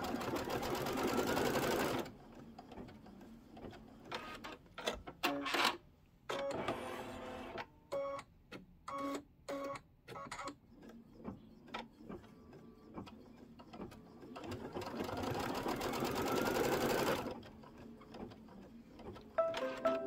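Embroidery sewing machine tacking down a quarter-inch seam allowance on a seasonal table runner, running in quick stitching bursts of varying length with a longer steady run near the start and again near the end, close and clear.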